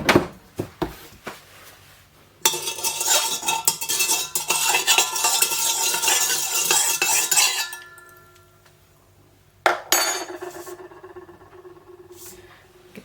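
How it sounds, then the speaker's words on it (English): A couple of tablespoons of sugar are stirred into a quick no-rise pizza dough mixture in a bowl. A spoon scrapes and clinks for several seconds, stops, and then gives a short second burst, close and alone. "Give that a little stir"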